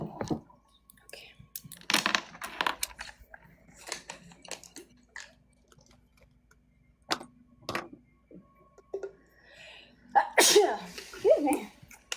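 A single sharp sneeze bursts out in a quiet indoor setting during a home work session, with scattered soft clicks and light handling noises around it and brief talking nearby.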